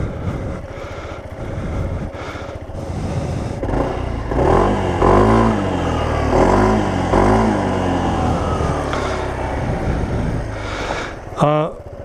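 A Yamaha SMAX 155cc four-valve scooter engine starts and idles nearby, settling into a steady, throbbing exhaust note with a few brief rev swells and mechanical clatter, ending in a short sharp sound.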